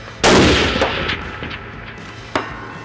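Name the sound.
hunting rifle shot at a rifle range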